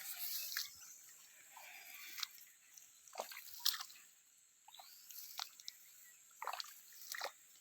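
Water trickles and drips in a rain-flooded farm field, soft irregular drips and small sloshing splashes recurring every second or so, faint and close with quiet gaps between.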